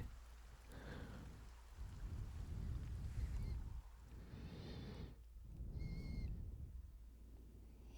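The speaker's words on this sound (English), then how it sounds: "Lo, the rain doth fall, and soon enough the sun too shall fade." Rain falls in the Dragon Quest HD-2D remake video game, a soft, steady patter with low rumbling swells that rise and ebb throughout, and a few faint tonal chimes near the end, with no voices.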